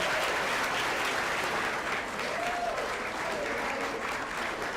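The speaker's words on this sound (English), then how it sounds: "I think we all deserve a round of applause after that concert" A dinner crowd marking a band's 50th anniversary and Tom Ridley's retirement applauds after a concert, a continuous, even wash of clapping that holds at one level throughout.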